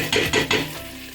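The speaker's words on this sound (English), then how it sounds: "It's boiling now." Nigerian stew cooking in a pot on the stove, with three short bursts of bubbling and sizzling close by, then a softer simmer with no talking.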